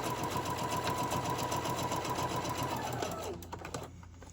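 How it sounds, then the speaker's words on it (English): A sewing machine top stitches along the edge of fabric tote bag straps, running in a fast, steady mechanical chatter close by before slowing and stopping with a few final clicks. "I'm just kind of sewing a top stitch along the edge there just to seal that seam that I ironed over"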